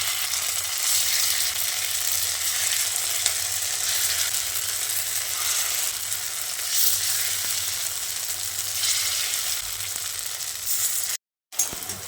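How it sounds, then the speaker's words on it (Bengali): Ground lentil fritters (bora) fry in hot oil, a close, continuous hiss with crisp crackles and slight swells, cutting out briefly near the end before resuming. "এভাবে বড়া দিয়ে দিচ্ছি"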